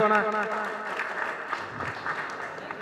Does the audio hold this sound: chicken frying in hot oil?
no